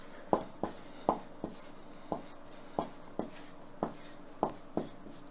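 Pen or pencil strokes scratch on paper while a sketch is drawn, close and quiet, a series of short evenly spaced marks with soft rubbing between them.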